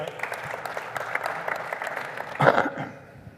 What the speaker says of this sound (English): What was the applause for, by the way?